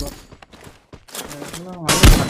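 Gunfire in a shooting video game: quiet scattered shots, then a loud close blast near the end, mixed with a voice talking.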